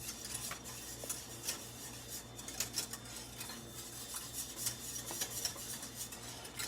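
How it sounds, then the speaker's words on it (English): A whisk scrapes and clinks steadily against a pot of bourbon sauce sweetened with honey, a continuous close metallic stirring with light taps and no voices. "So make sure you keep whisking it"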